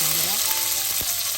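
Chopped onions hitting hot oil already holding garlic and curry leaves, giving a steady close sizzle with a light stir or scrape near the end. No one speaks.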